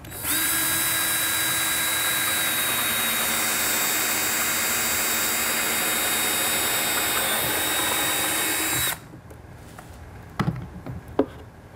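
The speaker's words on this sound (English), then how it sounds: "and drill a quarter inch hole." A power drill bores a quarter-inch hole into a metal conduit pole, a loud steady whine running nearly nine seconds before stopping abruptly, followed by a few faint clicks and knocks.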